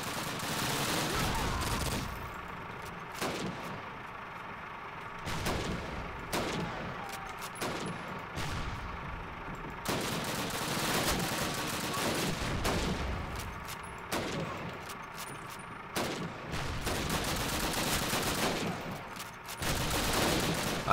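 Rifle gunfire in a Call of Duty battle at Ponyri, repeated sharp shots and bursts spaced through a long stretch of distant combat noise, some shots loud and close, others farther off.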